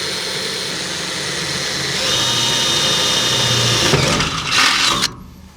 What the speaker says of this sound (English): let me go ahead and punch that through right now while I got the drill